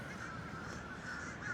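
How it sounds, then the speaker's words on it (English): Crows caw in a small-town street in Warsaw, North Carolina, a few harsh calls at moderate distance over a constant outdoor background hum. "Let's go over here and see what these crows are all about."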